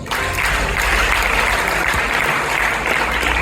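A crowd at a gospel concert event claps loudly and continuously, a dense close burst of applause that lasts throughout.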